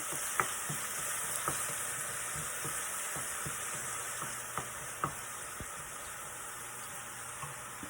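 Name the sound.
frying curry leaves in tempering oil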